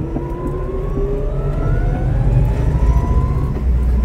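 Electric-converted 1963 Volkswagen Beetle driving in second gear: a steady motor whine rising smoothly in pitch over road rumble and wind noise, loud and continuous, with no engine firing.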